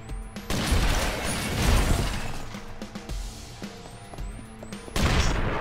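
Explosions and crashes in the video game Mr. Shifty, several loud booming bursts with shattering debris and gunfire-like clatter over game effects.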